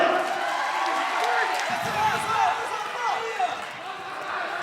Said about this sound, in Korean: 양 선수에게 힘찬 응원의 박수 부탁드립니다